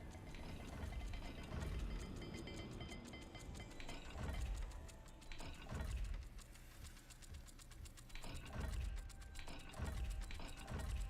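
A puzzle dial in Hogwarts Legacy turns with repeated ratcheting clicks and grinding stone-like mechanism sounds, rising in bursts over rumbling ambience, fairly loud and continuous with no voices.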